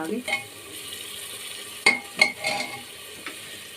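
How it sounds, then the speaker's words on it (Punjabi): Potato and chickpea curry tempering is stirred in a hot pan: a soft background sizzle broken by a few sharp spoon scrapes and metallic clinks against the pan, close and fairly quiet. "ਦੇਖੋ ਹੁਣ ਇਹਨੂੰ ਆਪਾਂ ਥੋੜਾ ਜਿਹਾ ਭੁੰਨ"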